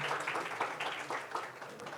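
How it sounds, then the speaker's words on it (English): Conference audience applauding a financial-services speaker, soft and somewhat distant steady clapping from a crowd, continuous through the short stretch with no voices over it. "Let's have a huge round of applause for Ms."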